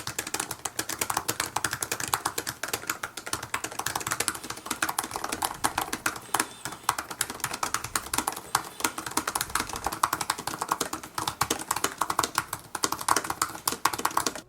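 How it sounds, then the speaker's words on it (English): Rapid, steady typing on an Apple MacBook Pro keyboard, a continuous run of close, crisp key taps with no pauses or voices. "let's go ahead and take a listen to the keyboard in action to see how they differ"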